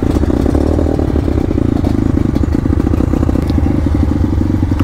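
A Rusi KRY 200 motorcycle with broken spokes rides steadily, its engine a dense, loud rumble with rattling and clatter running throughout.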